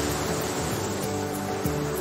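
Ocean waves roll along the Martinique shore in a steady, dense wash of surf noise, continuous and fairly loud throughout with a low rumble and a slight swell near the end.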